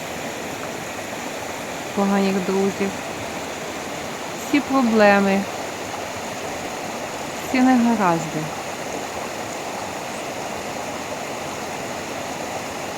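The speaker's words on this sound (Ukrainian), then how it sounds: "Нехай ця вода змиє з вас." Steady rushing flow of a stream or small waterfall, a constant broadband wash heard up close, with a person speaking in short phrases over it.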